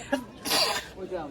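A single sharp sneeze bursts out amid nearby voices, followed by a person talking.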